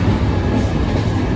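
A Jan Shatabdi Express rumbles along the rails, heard from inside a Vistadome glass coach nearing Kevadia: a loud, continuous, close roar of wheels and carriage.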